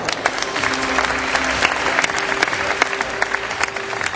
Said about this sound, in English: with a warm applause for Philippe.